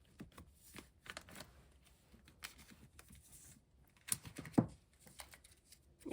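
K-pop photocards are handled and sorted for storage, giving soft, close rustling, sliding and light tapping of card and plastic sleeves, with one sharper snap near the end.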